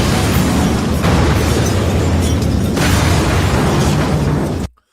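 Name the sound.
explosion sound effect in a movie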